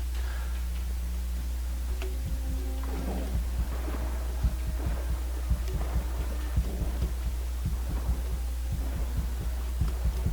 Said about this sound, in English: As soon as you hear that heartbeat, you know you're in trouble.